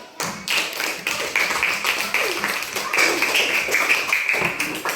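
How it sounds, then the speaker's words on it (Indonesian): Classroom applause for a student group: many hands clapping fast and dense at close range, starting abruptly and carrying on steadily, with a little voice murmur mixed in. "kasih aplaus dulu"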